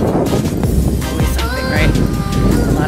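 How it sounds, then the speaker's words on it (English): Wind gusts across a microphone at Grant Park beach in a steady, loud rumble, with a person talking over it. "A little windy today for my liking."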